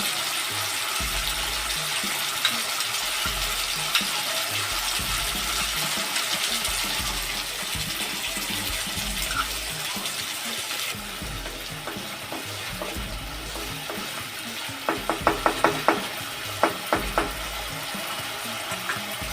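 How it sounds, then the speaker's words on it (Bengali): Spice paste for a pabda fish curry with eggplant fries in oil in a pan while water goes in, giving a steady loud sizzle and bubbling, with a few sharp clinks of a spoon near the end. "এবার আমি এই মশলাটা দিয়ে দেবো। এর মধ্যে আমি জল দেবো।"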